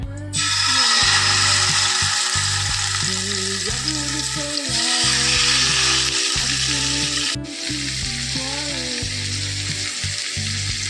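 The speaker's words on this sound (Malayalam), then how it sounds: "അതിലേക്ക് നമുക്ക് ഇത്തിരി ബട്ടർ ഒഴിച്ചു കൊടുക്കാം. ഇതിലേക്ക് ചിക്കൻ വെച്ചു കൊടുക്കാം." Chicken pieces sizzling in butter on a hot tawa, a loud steady frying hiss broken by a few short pauses and some clattering stirs.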